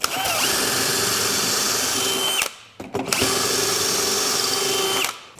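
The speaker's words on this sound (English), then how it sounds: "You just drill the holes." A power drill whines loudly at a steady pitch drilling pocket holes, cuts out briefly, then spins up again for another long, even run before stopping.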